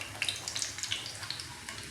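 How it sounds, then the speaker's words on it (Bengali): Parathas stuffed with green peas deep-frying in hot oil, giving a steady close sizzle with quick crackling pops throughout and no voices. "আমি এখানে ডুবো তেলে এই পরোটাগুলো ভাজছি"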